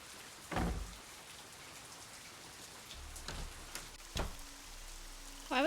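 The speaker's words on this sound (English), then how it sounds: "Why was the rain so loud in that room?" Rain in the Nancy Drew: Legend of the Crystal Skull video game, a faint steady patter inside a room, broken by a few sharp bumps and a low tonal hum near the end.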